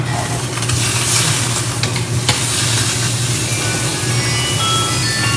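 Butter sizzles and fries steadily in a pan while beef tongue is being cooked, a continuous close crackling hiss with occasional stirring scrapes throughout.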